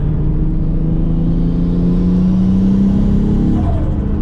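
A Nissan S13 with an RB20DET engine drones loudly and steadily under boost, its pitch slowly rising with a rough, uneven, sputtering rumble throughout.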